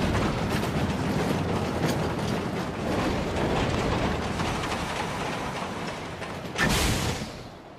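A roller coaster ride at the Del Perro Boardwalk in the video game GTA Online: a steady, loud rumbling rattle of coaster cars on track with rhythmic clacking, ending in a brief louder rush before fading.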